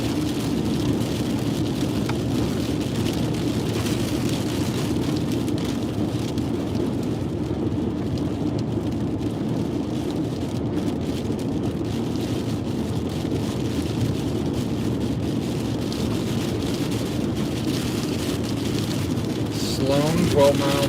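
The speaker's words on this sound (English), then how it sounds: "Big desert rain." Heavy desert rain drums steadily as a car travels a highway near Las Vegas, a dense continuous wash of water and road noise held at an even, loud level, with brief talk from people inside the car.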